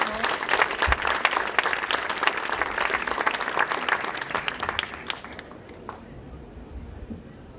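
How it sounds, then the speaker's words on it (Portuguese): Audience applause after a conference speaker is introduced, a dense burst of many hands clapping that holds strongly for about five seconds, then thins and fades to scattered claps. "Fuertes palmas, por favor."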